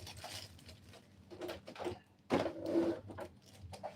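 A sewing machine stitches down a seam on a dress in short, quiet stop-start bursts of mechanical whirring and clicking, heard close up.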